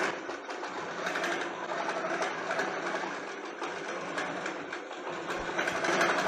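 A longarm quilting machine runs steadily as it stitches an edge-to-edge pattern across a quilt mounted on a hoop frame, giving a close, continuous mechanical whir and rapid needle chatter without speech.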